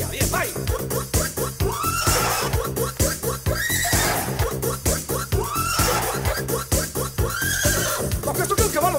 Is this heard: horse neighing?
yes